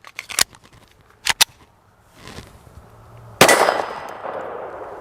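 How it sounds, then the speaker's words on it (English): A Taurus TX22 fires .22 LR 38-grain Blazer rounds at a 3A riot shield. Several sharp, brief metallic cracks and clanks come close together, then a louder report with a ringing, fading tail. "I'm going to go ahead and hit this with a 22 LR out of the Taurus TX22, loaded up with some 38 grain Blazer."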